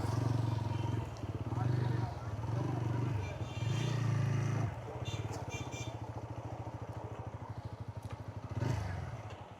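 A motorcycle engine idles and rumbles close by while it is moved through a riverside spot near Diamond Harbour, a low steady throb with clattering under people talking throughout.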